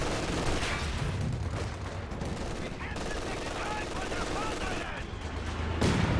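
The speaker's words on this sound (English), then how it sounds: "LMG now upgraded on this squad, and they're going to be spitting hot fire from behind this heavy cover" An upgraded LMG squad fires from heavy cover in Company of Heroes 2, sustained machine-gun bursts and scattered battlefield gunfire mixed under a commentator's voice.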